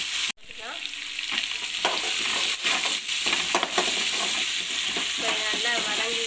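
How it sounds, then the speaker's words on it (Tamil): Food sautéing in a pan while being stirred, for a potato and leftover rice dish cooked at home: constant loud sizzling with repeated scraping and stirring strokes, close by and without talk. "கொஞ்சம் அந்த பச்சை வாசனை போகிற வரைக்கும் நல்லா வதக்கணும்."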